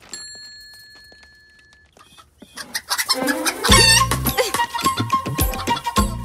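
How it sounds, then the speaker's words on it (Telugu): A rooster clucking loudly and close by in a rapid series of agitated calls that starts after a quiet opening with a faint tone, then continues in a dense burst to the end. "అది కోడి పుంజు. కోడి పెట్ట కాదు, గుడ్డు పెట్టడానికి."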